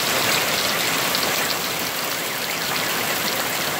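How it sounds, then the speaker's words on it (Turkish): Hail falls in Yakutia in July, a dense, steady hiss of countless small impacts pattering evenly on surfaces, close and continuous with no voices. "Şimdi doluya döndü."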